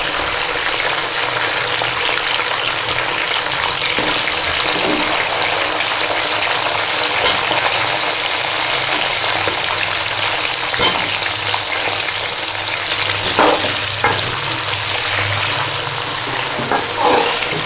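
Potatoes, cut with their skins on, sizzle and fry steadily among browned onions in a karahi for aloo baingan, a loud continuous crackle with occasional stirring scrapes.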